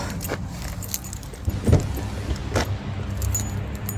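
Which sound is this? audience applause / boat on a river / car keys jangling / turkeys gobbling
car keys jangling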